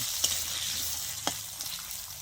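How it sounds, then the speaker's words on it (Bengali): Thin strips of potato sizzle steadily in hot oil, with two sharp scrapes of a stirring utensil against the pan standing out over the continuous hiss. "আমি একটু আলুগুলো তেলের মধ্যে নাড়াছাড়া করে ভেজে নেব"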